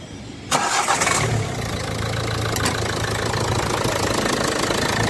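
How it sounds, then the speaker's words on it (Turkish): A car engine cranks and catches, then settles into a steady loud idle close by, with no talk over it. "Şimdi geç çalıştır arabayı."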